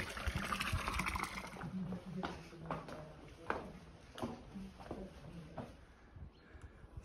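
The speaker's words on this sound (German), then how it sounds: "Und der nächste Brunnen, also Wasser haben die genügend." Water splashes and trickles steadily from a fountain, with a few brighter drips and splashes standing out against the flowing wash.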